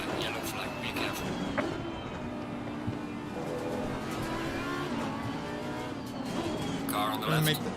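Race cars in Assetto Corsa Competizione drone along with a steady engine note and occasional tyre squeal, continuous throughout while a voice talks over them.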